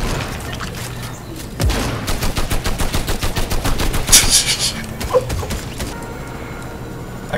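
Rapid video-game gunfire from a Fortnite-style battle-royale match, a loud burst of evenly spaced shots lasting a few seconds in the middle, followed by a heavier single blast and then quieter background.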